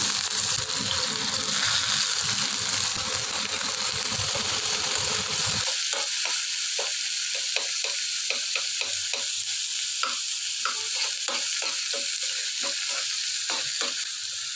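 Chopped onion dropped into a pan of browning chana dal sizzles and fries steadily, with a sharp drop in the low rumble partway through and frequent small stirring clicks over a continuous hiss.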